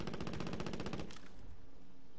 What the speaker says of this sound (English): Hey, I'm getting sniped from somewhere.